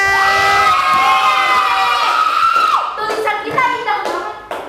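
A classroom audience of students gives loud, sustained applause and cheering for a presenting group, with clapping and children's shouts mixed together and tapering off near the end.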